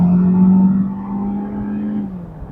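A Hyundai Elantra GLS sedan in Pakistan kicks down in Smart mode, its engine droning loudly from inside the cabin as revs climb and hold, then ease off toward the end.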